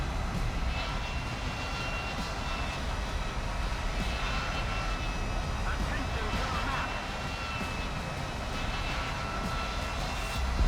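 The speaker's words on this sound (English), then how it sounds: "I say I hear jet, but it might be friendly." Jet aircraft in the video game War Thunder, a steady, broad engine roar with a faint whine holding at even loudness for the whole stretch, no distinct pass or fade.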